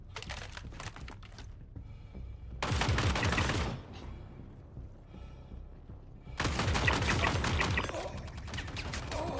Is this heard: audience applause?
no